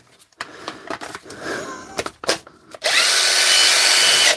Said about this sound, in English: We could try it in that impact driver fixed earlier.